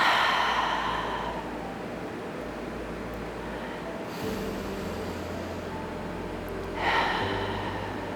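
Slow, deep breathing during a hatha yoga class: a long audible breath at the start, a quieter stretch, then another swelling breath near the end, close and unhurried with no talking.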